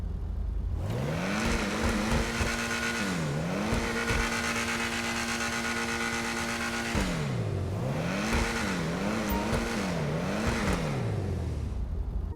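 A Lampadati Komoda sports car engine in GTA Online revs hard and loud, pitch climbing and dropping in repeated swells, with a sustained high-rev stretch in the middle and no voices.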